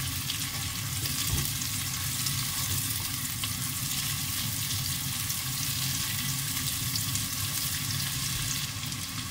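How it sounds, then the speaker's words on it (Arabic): Raisins and onion frying and being stirred in a pan, part of preparing the Basra rice dish mutabbak zubaidi, give a steady close sizzle with soft scraping stirs that continue without a break and with no talking. "بعدها أضيف الكشمش أقلبه شوية ويا البصل"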